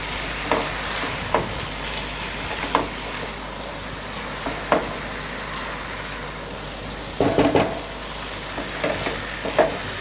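A spoon stirs rice into yakhni in a pot, giving scattered scraping knocks and clatters at uneven intervals over a steady low hiss of cooking, with no talking.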